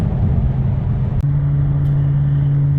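A car powered by a Toyota 1UZ V8 engine in regular driving, a loud close low rumble from inside, then after a brief dip the engine settles into a steady droning hum.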